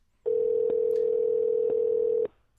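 A steady electronic tone on a dead phone line holds for about two seconds, loud and close, with faint clicks at intervals, then cuts off into near silence.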